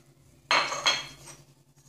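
A spoon adding almonds to an almond and lemon cream filling, heard as a short, close rattling scrape and clink lasting under a second, followed by quiet.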